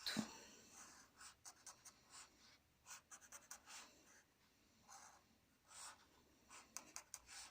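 A physics teacher draws a circuit diagram of resistors on a board, producing faint, scratchy, irregular strokes in short bursts separated by brief pauses, with no talking.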